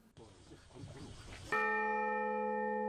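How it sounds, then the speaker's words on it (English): A church bell is rung at an installation ceremony, first after a stretch of crowd murmur and movement, then one loud, clear strike that rings on and sustains with a long, even decay. "Nolan and Moriuchi spoke at the installation ceremony and rang the bell together."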